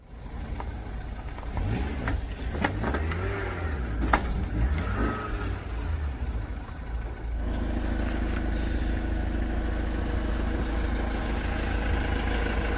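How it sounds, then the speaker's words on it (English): A car's engine idles and revs in short bursts as the car is driven onto the back of a truck, then settles into a steady low hum; moderately close, with no talking. "I am now going to drive Joe onto the back of my truck"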